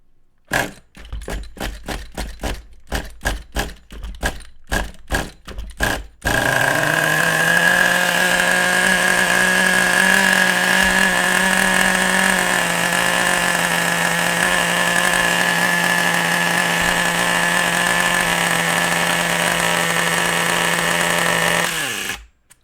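A nitro RC car engine idles too high after being leaned: a few short sputtering revs, then a loud, steady high-pitched buzzing drone holds for about fifteen seconds before cutting off.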